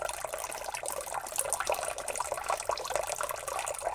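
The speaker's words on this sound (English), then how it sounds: "Where's the running water coming from?" Running water of a small river in the survival game BugOut, a steady bright splashing and gurgling trickle that continues evenly, moderately close with no talk over it.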